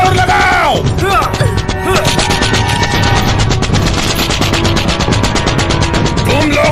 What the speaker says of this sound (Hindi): जो भी हो दरवाजा तोड़ दो